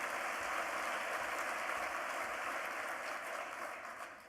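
Steady, dense applause from a large audience at a business annual meeting, heard at a distance as an even hiss of many hands that thins slightly toward the end, with no talk over it.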